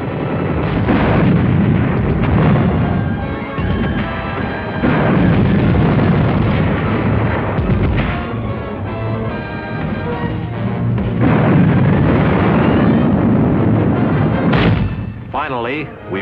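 Artillery and mortar fire during the Battle of Manila forms a loud, continuous barrage of booming rumbles and blasts that barely lets up, with one sharper burst near the end.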